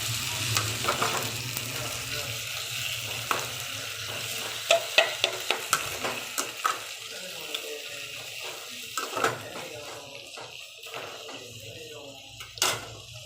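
Onion and tomato sizzle and fry in a pan while a spoon stirs and scrapes, with occasional clinks against the pan.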